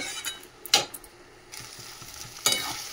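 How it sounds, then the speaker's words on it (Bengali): Cabbage cooked with a fish head is stirred in a frying pan: a soft, steady sizzle with scraping stirs and two sharper clanks of the utensil against the pan, close by with no talking. "মাছের মাথাটা দিয়ে আমাদেরটা নাড়িয়ে নেব"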